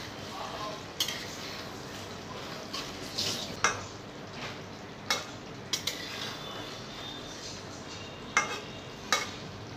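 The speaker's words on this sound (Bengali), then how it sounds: "এখন আস্তে আস্তে নিচের দিকে লাড়া দিব" A spoon scrapes and clinks against a cooking pot while fish and potatoes are stirred for a village-style Bengali dish, producing scattered soft metallic taps over a quiet simmering background, with no voices.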